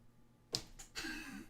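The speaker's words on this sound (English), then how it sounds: "That's a single clap." One sharp, close clap rings out in a quiet room, followed by a brief, softer rustle.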